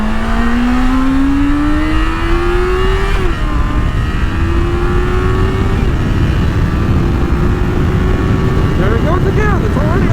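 A loud motorcycle engine revving steadily upward in pitch, holding near the rev limiter with a brief dip midway, sustained and close throughout.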